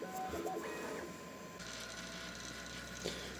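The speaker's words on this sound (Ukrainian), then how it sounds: "А поки нехай друкує" 3D printer at work: faint mechanical whirring with rising and falling stepper-motor tones and small ratcheting movements, steady and quiet in a room.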